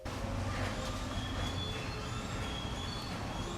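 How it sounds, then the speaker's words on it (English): A train slowing down, its wheels and brakes squealing in thin high tones over a steady rolling rumble heard from inside the car, fairly faint and continuous with no talking. "as you hear a slight screeching of the brakes."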